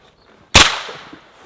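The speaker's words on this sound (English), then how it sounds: "there's nothing compares to a roller delayed blowback MP5" A single sharp gunshot from a roller-delayed blowback MP5, loud and close, with a bright crack followed by a decaying echo tail and no talk.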